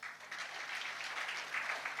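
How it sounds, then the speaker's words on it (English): Audience applause fills a presentation session for innovation teams in Bangkok, a steady wash of many hands clapping at moderate volume, continuous and dense for the whole two seconds with no voices over it. "Please give everybody a big round of applause."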